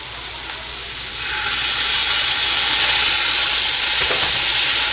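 Chili garlic sauce poured into a hot frying pan, a loud bright sizzle and hiss that swells after the first second and holds steady, with faint stirring and no voices.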